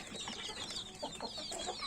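Chickens cluck in short, uneven bursts, with soft high peeping mixed in against a faint background hiss.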